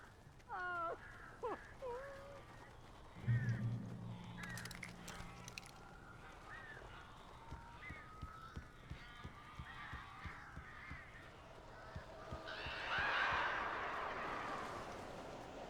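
Birds call in the horror video game Alan Wake: harsh, honking caws at the start, a few scattered cries, then a louder burst of calls near the end over dark game ambience.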